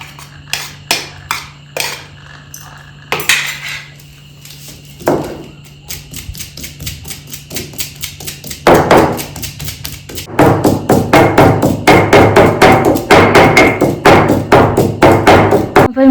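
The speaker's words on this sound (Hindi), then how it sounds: "जब तक तेल गर्म होता है तब तक मैं इनको कूट लूंगी" Ingredients pounded in a mortar in a home kitchen while oil heats on a gas stove, giving repeated thudding taps that start sparse and become a steady, loud rhythmic pounding.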